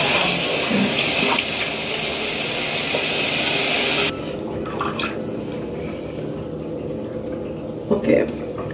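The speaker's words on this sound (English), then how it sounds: "Now I'm just gonna wash my face off." Water running from a bathroom tap while someone washes their face, a loud steady close hiss that cuts back to a softer flow midway, with splashing near the end.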